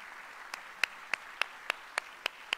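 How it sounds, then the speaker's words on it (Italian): At a public film talk in Ascoli Piceno, a faint, steady run of about eight evenly spaced claps, roughly three per second, rises over a quiet room hush, as if only a few hands are keeping time. "la salutiamo con un applauso"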